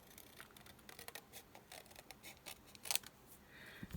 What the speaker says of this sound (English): I gotta go this way so I can see where I'm cutting